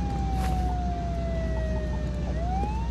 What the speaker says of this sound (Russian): А вон скорая едет